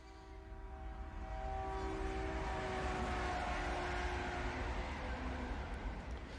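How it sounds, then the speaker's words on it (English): A steady, low rumble of a train crossing a bridge overhead fills a cafe scene in Overwatch, with faint tonal horn-like hums drifting above the heavy continuous roar. "this really low rumble to this kind of the scene to indicate that this train is going over us"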